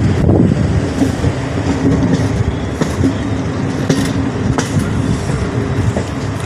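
The Gorakhpur–Deoghar Shravani Mela Express runs through a curve, heard as a steady, loud rumble of railcars with rhythmic clickety-clack wheel beats and faint hints of wheel squeal, without talking.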